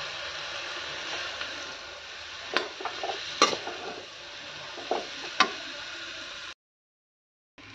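A dish with tomato and soy sauce is stirred as it fries, a faint steady sizzle punctuated by several sharp scrapes and taps of the spatula against the pan, ending in a brief silence.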